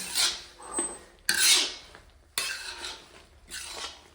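Dry fruits and sugar stirred in a metal pan for desi ghee panjiri, with a spoon scraping and clinking against the pan in a few separate bursts, close up, with no talking.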